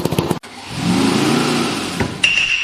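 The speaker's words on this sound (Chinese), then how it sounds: "点火。 起来，起来！ 我们的发动机" A homemade car engine catches after ignition and runs with a loud, steady, rough roar for about two seconds, then changes pitch as a high whine rises at the end.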